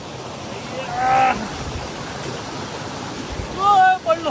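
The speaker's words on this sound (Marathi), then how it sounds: "वरती बघू शकता तुम्ही धबधबा" A hidden waterfall at Hanumankada in Kharghar rushes as a steady, broad wash of falling water, heard close and continuous, with short bursts of voices talking over it.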